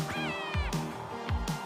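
Repeated plaintive meows from a cat, three or four drawn-out calls in quick succession, close and clear against a quiet background with no one talking over them.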